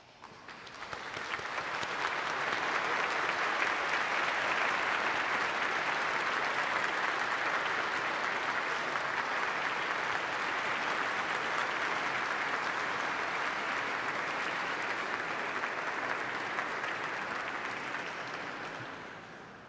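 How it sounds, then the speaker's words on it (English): The audience at a Duke Engineering master's hooding ceremony bursts into sustained applause, a dense wash of many hands clapping that swells quickly, holds steady for most of twenty seconds, then tapers off. "give your family, friends, and supporters a round of applause to say thank you"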